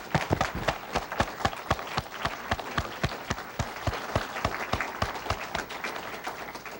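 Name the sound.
round of applause at corporate meeting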